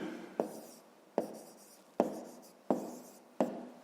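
Pen strokes on paper while working a fifth-grade maths division exercise, five sharp scratchy marks at steady intervals of under a second, each fading into a soft rustle, close and alone without talk.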